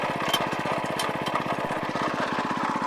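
A Champion 22-inch front tine tiller's small engine runs steadily at close range, with a rapid, even put-put firing rhythm at constant loudness and no voices.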